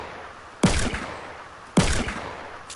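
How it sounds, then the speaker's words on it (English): Gunfire in the video game Fortnite: two sharp, loud shots about a second apart, each with a short decaying tail, over a steady background hum. "Why are you shooting me?"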